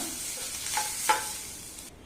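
Grated coconut roasting in ghee makes a faint, even sizzle with a couple of soft stirring scrapes, cutting off abruptly at the end.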